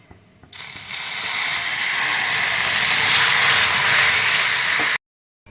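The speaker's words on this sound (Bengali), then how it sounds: "এবার আমি একটু জল দিয়ে দিচ্ছি কারণ বেশি পোড়ালে তিতো হয়ে যাবে" Water poured into hot caramelizing sugar in a pan, an abrupt loud hiss that swells into a steady roaring sizzle for several seconds and then cuts off.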